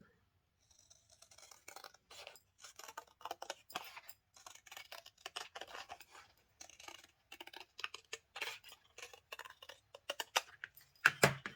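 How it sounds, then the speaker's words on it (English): Scissors snipping through paper along a pencil-marked line during a budget craft project, a close run of quick, crisp irregular cuts repeating throughout with no talking. "use your scissors to cut that"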